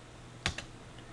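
A computer keyboard is tapped twice in quick succession, close and crisp against a quiet room.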